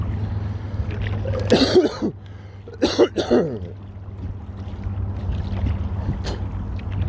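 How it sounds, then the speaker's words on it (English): Two short bursts of coughing over a steady low engine hum, with a quieter stretch after. "Still battling the cough."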